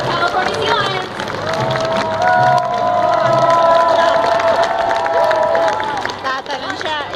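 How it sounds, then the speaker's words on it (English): A large crowd at an indoor marine life show with California sea lions cheers and hollers steadily, with a whistle-like tone riding over the noisy roar; clapping is hard to pick out beneath the din. "stomp your feet, clap your hands, holler,"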